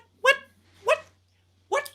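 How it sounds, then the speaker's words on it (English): A dog barks three times in loud, close, evenly spaced woofs with short gaps between them, heard alone against a faint low background hum. "Are you barking?"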